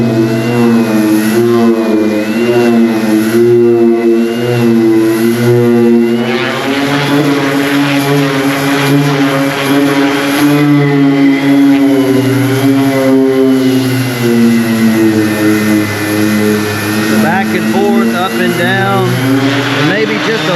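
Power sander scuffing the painted surface and weld bead of a fuel tank, a steady whirring buzz with rising and falling pitch that runs continuously and loud, with someone talking over it.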